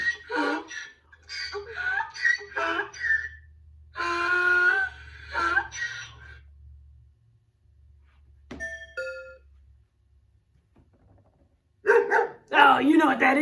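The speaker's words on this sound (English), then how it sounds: "That was a dog." A dog barks a few sharp times among a sequence of farm animal sounds, with people talking over and between them and a doorbell-like chime ringing once in the middle.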